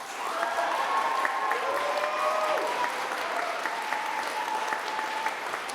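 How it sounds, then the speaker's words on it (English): A debate audience breaks into sustained applause, a dense steady wash of many hands clapping together in a hall for several seconds, loud and even, with no talking over it. "Oh man, the judges are clapping."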